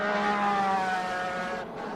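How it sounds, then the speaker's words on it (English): A V6 Acura Camel Lights race car at the 1993 IMSA Toyota Grand Prix of Atlanta, its engine a steady, loud, high-pitched wail that holds a sustained tone before easing slightly near the end. "Very distinctive engine note to that V6 Acura."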